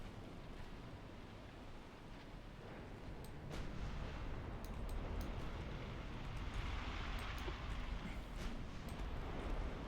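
Naval gunfire from 11-inch guns in the video game Ultimate Admiral Dreadnoughts, faint muffled booms over a constant roar of sea and wind, with the rumble swelling midway.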